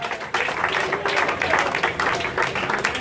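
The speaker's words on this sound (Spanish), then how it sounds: "Denle un aplauso fuerte al Señor" Congregation applauding at an evening church worship service, a dense steady wash of many hands clapping throughout, fairly loud and close, with no voices over it.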